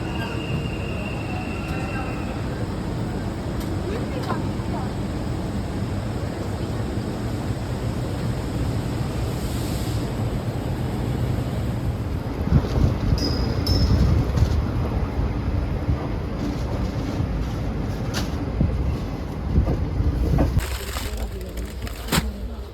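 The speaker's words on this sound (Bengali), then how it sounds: "ট্রেন আমাদের একদম ফুল স্পিডে চলা শুরু করে দিয়েছে।" A special train from Kolkata to New Jalpaiguri runs at full speed, heard from inside the coach as a loud, steady rumble with rattling and faint squeals, and people talking now and then.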